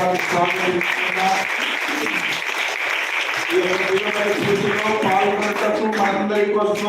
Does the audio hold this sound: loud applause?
yes